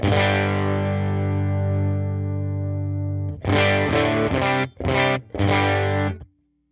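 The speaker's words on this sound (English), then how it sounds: "This is called a 15-watt Schlesgen blue. with a tweed combo mic'd with a 67 condenser mic." Electric guitar through a UAFX Woodrow 55 amp modeling a tweed combo with a 15-watt blue speaker, miked with a 67 condenser: a long sustained chord ringing out, then several short, clipped chord stabs with gaps, slightly driven tone.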